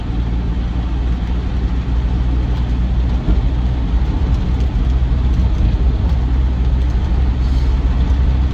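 A Land Rover Defender 90 TDCi soft top drives along, its diesel engine a loud, steady, close drone with heavy low rumble throughout and no talk.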